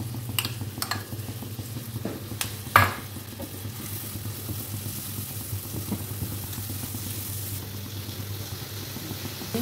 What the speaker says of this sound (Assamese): অলপ মছলাখিনি ভুনি লওঁ কেঁচা গোন্ধটো যোৱাকৈ